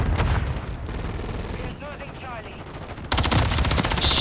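Rapid automatic fire from the Rival 9 in Modern Warfare 3, loud and close, comes in two sustained bursts separated by a short lull filled with quieter game effects.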